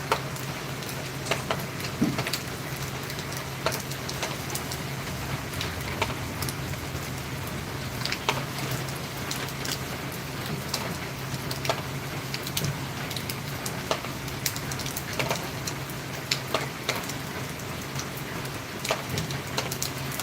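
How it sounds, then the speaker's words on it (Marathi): Early-morning monsoon rain falls steadily at the start of the rainy season, a constant close hiss scattered with sharp drip ticks on a hard surface, heard alone with no talk. "पाऊस आहे का तुमच्याकडे सकाळी सकाळीच पावसाळा सुरुवात झाली"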